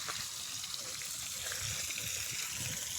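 Irrigation water for coconut trees gushing steadily, a close, continuous hissing flow with no pauses and no voices.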